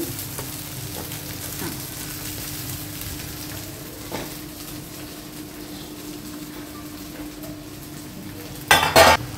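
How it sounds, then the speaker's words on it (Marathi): Cooked rice being stirred into chili fried in oil for spicy capsicum rice, a low steady frying hiss with soft scrapes, ending in a loud burst of metal spoon clatter against the pan. "आता हा राईस मोकळा करून घेतलाय आणि तो आता त्याच्यात टाकून घेतोय"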